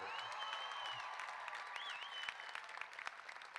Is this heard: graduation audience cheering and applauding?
yes